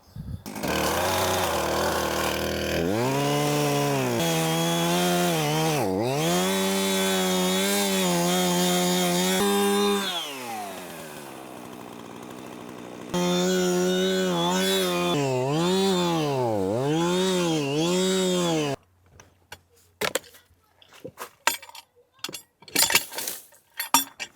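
A chainsaw runs loudly for a long stretch, its engine rising and falling as it cuts a felling notch into a small tree trunk, then cuts out, leaving scattered knocks and clicks.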